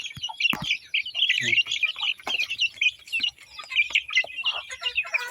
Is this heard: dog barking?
no